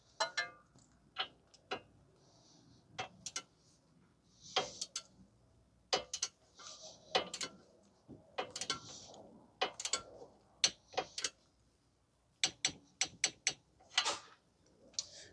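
A ratchet clicks in short, repeated bursts of sharp ticks as it tightens the castle nut on the steering knuckle of a 2010 Toyota Corolla 1.8. The tool is close and clear, with brief pauses between the runs of clicks.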